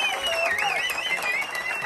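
An audience applauds and cheers at a live Turkish folk music performance, a steady wash of clapping with whistles and shouts layered on top throughout.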